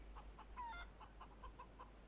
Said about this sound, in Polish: Czyli słyszałem kurę.